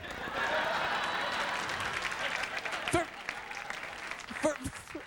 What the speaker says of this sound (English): I don't know if you're clapping because it's a good price or you enjoyed the joke.